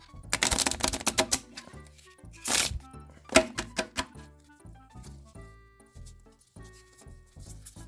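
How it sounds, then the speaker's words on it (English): A deck of playing cards is shuffled close up, with bursts of rapid riffling clicks and sharp flutters followed by softer taps and settling sounds, no voices. "Let me shuffle the deck a little bit so you can't say that I cheated or anything"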